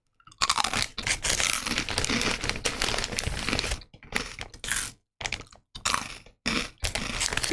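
Rice crackers being eaten at home late at night: crinkling packaging and loud close crunching bites come in dense bursts with short silent gaps, no talking.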